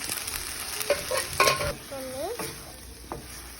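Pasta being stirred in a pressure cooker pan, with soft scraping strokes and light sizzling, a few spoon clinks and small bursts, close and fairly quiet with no talk.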